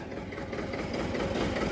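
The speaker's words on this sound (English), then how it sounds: "This little tractor, this little son of a gun, this John Deere R" A 1953 John Deere R tractor engine idles steadily with a continuous low, throbbing rumble that holds at a fairly even level throughout, with no voices over it.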